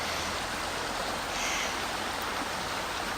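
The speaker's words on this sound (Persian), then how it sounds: "صدای آب، گنجشگاه، باد عالیه، یه ترکیب فوق العاده است" Water flows steadily outdoors in a countryside hometown, a dense, even rushing wash like a nearby stream that holds constant throughout, with no distinct bird calls or gusts standing out.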